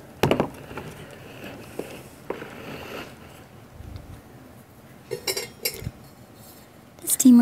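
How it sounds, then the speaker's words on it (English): A lid being fitted onto a Christmas pudding steamer, a few sharp metallic clinks and clatters scattered between quiet pauses, with a final louder knock at the end; a person murmurs faintly. "Now I have to try and attach the lid."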